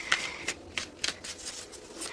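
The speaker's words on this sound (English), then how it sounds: "while I'm shuffling" Tarot cards being shuffled by hand, giving a run of soft riffling and flicking bursts at an irregular rhythm, close and fairly quiet, with no talk over it.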